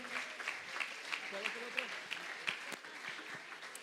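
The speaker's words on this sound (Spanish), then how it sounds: "Amén, un aplauso." A small crowd at a church Father's Day celebration claps in a modest round of applause, loose and uneven, while voices talk over it.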